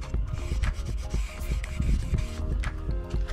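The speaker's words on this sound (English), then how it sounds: "Super easy to clean windows from overspray or whatever. I'm using a razor blade." A razor blade scraping paint overspray off van window glass, repeated rough rasping strokes in a steady rhythm, close and fairly loud with no talk.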